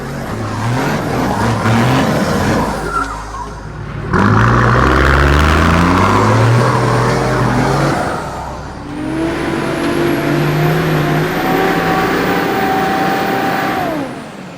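A 4WD engine revs hard in 3-wheel drive on a muddy track at Mt Sunday during torrential rain, loud and close, the pitch rising and falling in long strained surges with whining drivetrain tones.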